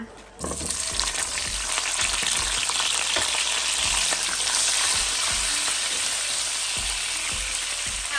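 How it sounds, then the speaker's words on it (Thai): Loud, constant sizzle of vegetables frying in hot oil in a pan, with occasional soft clunks of stirring underneath. "ตั้งกระทะน้ำมันแล้วแล้วก็จะทอดผักนะคะ"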